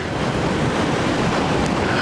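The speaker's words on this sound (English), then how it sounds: "Behind me there is nothing but sea all the way to the Africa." Sea waves at the coastal edge of Greece, a constant broad rushing wash of surf mixed with wind, steady and fairly loud throughout with no distinct breaks.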